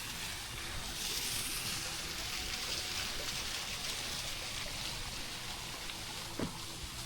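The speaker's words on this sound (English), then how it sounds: "And there's a little waterfalls right here." A small waterfall trickles and splashes steadily at an outdoor Wisconsin attraction, a continuous broad wash of water noise with faint background voices and one brief knock near the end.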